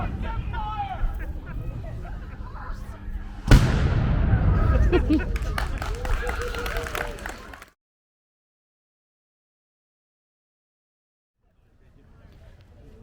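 Replica cannons fired at a living history festival, with one sharp, loud blast booming out and rumbling away amid crowd noise and shouting, then silence and faint outdoor sound.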